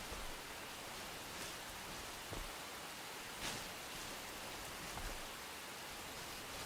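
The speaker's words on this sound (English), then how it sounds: "Oh great, it's raining again outside." Rain pouring in the survival video game Enshrouded, a faint, steady wash of falling rain with occasional soft patters, no voices.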